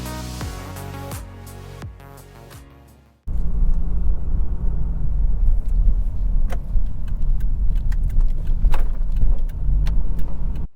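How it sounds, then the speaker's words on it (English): A car drives the highway loop around Green Bay, Wisconsin: a few seconds of quiet, then a steady, loud cabin rumble of tyres and engine that holds without a break. "So let's go for a drive."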